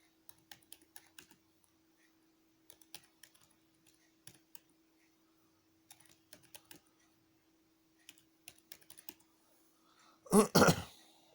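Numbers are typed into an Excel spreadsheet on a computer keyboard in short bursts of close, crisp key clicks separated by pauses, ending with a louder, brief rustle or thump.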